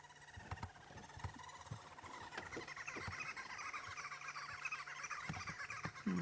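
Green wood hoopoes calling in the African bush at sunset: faint, distant cackling squawks in a rising, chattering chorus, with a few sharp clicks and knocks nearby.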